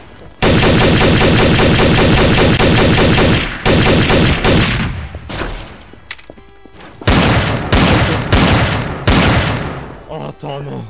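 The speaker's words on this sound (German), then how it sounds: "du hast mich angeschossen, ich hab nicht zurückgeschossen" Loud, close automatic gunfire in the shooter game Trouble in Terrorist Town, long rapid bursts broken by pauses and a few separate single shots.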